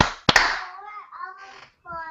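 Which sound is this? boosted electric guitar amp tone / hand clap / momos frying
hand clap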